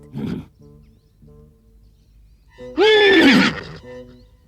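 A horse in a forest lets out a loud, shrill whinny with a wavering pitch that falls away, preceded by a brief, softer snort or call.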